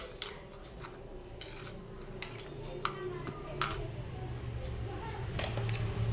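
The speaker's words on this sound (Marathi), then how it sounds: "परत छान मिक्स करून घेऊया।" A spoon stirs raita with salt in a bowl, producing a string of light metallic clinks and scrapes against the dish at irregular intervals over a low, steady background.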